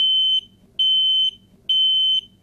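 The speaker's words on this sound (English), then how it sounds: "it is critical that every home has working smoke alarms" A home smoke alarm gives three loud, piercing beeps of equal length, evenly spaced with short silent gaps between them, sounding alone with nothing else around.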